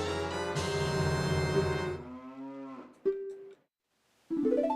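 A cow moos in a Zelda video game, a loud drawn-out harmonic call followed by a shorter one after a pause, with no talking over it.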